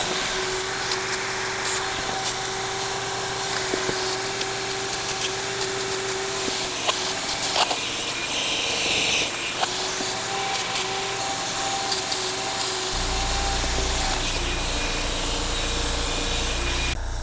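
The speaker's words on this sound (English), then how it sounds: "we still have some walnut media down in the bottom there, and we have to blast like all over the sides" Walnut media blasting the intake valves of a BMW N54 engine in an E90, a steady loud hissing air rush with a constant whine, continuous throughout with no talking.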